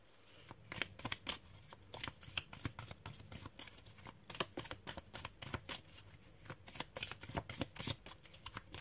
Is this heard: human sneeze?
no